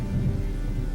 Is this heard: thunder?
yes